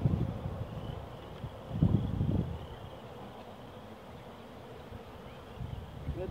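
Honeybees buzz softly throughout a hive opened for a spring inspection, a steady low drone with brief louder swells as the frames are worked, no voices.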